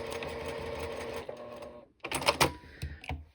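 Sewing machine back-stitching and joining fabric binding strips corner to corner, a steady mechanical whir for about two seconds that stops, then a few short bursts of stitching and handling noise.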